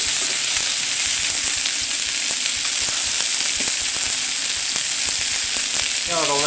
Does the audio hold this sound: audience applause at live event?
no